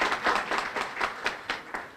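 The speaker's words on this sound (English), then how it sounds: "we really owe her a round of applause" An audience applauds at a talk honoring a rebbetzin, the clapping sounding as a moderate, fairly sparse patter of individual claps at a steady pace.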